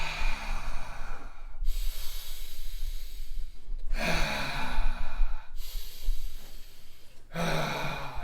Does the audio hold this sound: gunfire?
no